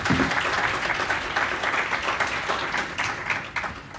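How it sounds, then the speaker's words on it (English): An audience at a panel discussion applauds as a panelist is welcomed on stage, with dense, continuous clapping lasting about four seconds and fading slightly toward the end. "Please, a round of applause."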